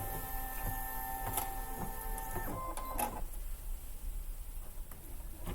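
A Baby Lock Flare embroidery machine stitches with a steady mechanical whir, rapid needle ticking and faint tonal hums from its motor. The sound is continuous and close, with no talking.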